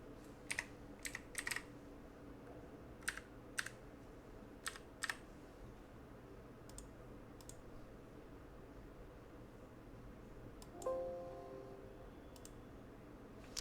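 Computer keyboard keys tapped while writing Python code, with short bursts of quick clicks separated by pauses over a faint steady background hiss, fairly close and quiet.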